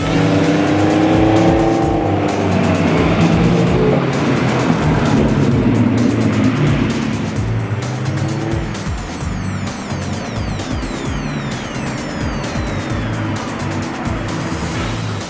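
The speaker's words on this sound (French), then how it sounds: "le safety car s'élance pour un tour de reconnaissance au ralenti" A safety car drives a slow reconnaissance lap of a race circuit, its engine a steady, fairly close drone that rises and falls in pitch, joined later by other engine noise and a faint high squeal.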